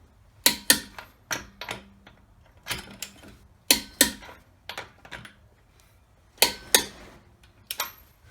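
A torque wrench clicks repeatedly while tightening lug nuts to about 100 foot-pounds, giving sharp, close mechanical clicks in uneven pairs and bursts with short pauses between them.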